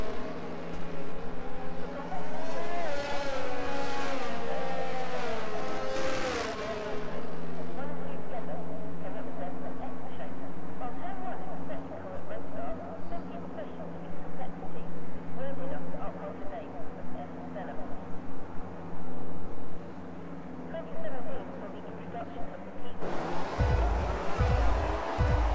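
Race cars start the Canadian Grand Prix in a racing video game, with engine whines rising and falling under near-constant commentary, and a louder burst near the end.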